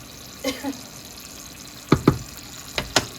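Sporadic liquid plops and bubbles of stock simmering in a pot, close by, arrive in small pairs with quiet pauses between them.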